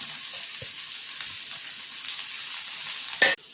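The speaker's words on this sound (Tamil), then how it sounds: "ஒரு பெரிய வெங்காயத்தை பொடியாக நறுக்கி வதக்கிக்கிறேன் லேசாக" Finely chopped onion sizzles lightly in hot oil in a pan, a soft continuous crackle with a few stirring knocks and a sharp scrape near the end.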